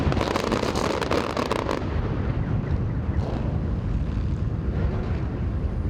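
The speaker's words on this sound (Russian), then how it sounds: "был ознаменован праздничным салютом над тоннелем" A festive fireworks salute bursts over a road tunnel at a motorcyclists' event, a dense crackle of loud pops and booms at first that settles into a rolling rumble of distant explosions, with no voices.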